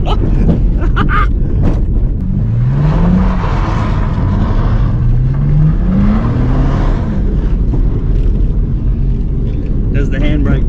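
A 1990 Nissan Patrol fitted with a Barra engine doing a slow U-turn, its engine rumbling steadily up close while revs rise and fall in two smooth sweeps, with wind buffeting and voices talking over it.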